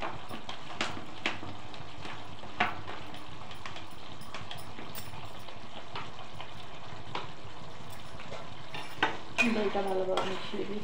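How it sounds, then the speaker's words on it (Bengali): Yogurt stirred into a paneer masala in a hot pan, a soft close sizzle under intermittent scraping and stirring strokes, fairly quiet, with a louder clatter of stirring near the end. "দইটা ভালোভাবে মিশিয়ে দিচ্ছি ওকে।"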